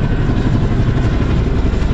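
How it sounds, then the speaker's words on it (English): A U.S. Army Chinook helicopter passes overhead on return from patrol, heard offshore as a steady, loud low rotor thrum and engine roar that holds throughout with no talk. "we got the U.S. Army Chinook helicopter coming back in from patrol"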